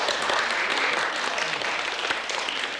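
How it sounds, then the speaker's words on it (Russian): A theatre audience at a Theatre Day celebration gives sustained applause, a dense, steady roar of clapping with a faint voice beneath. "заслуженные аплодисменты в адрес Александра Петровича"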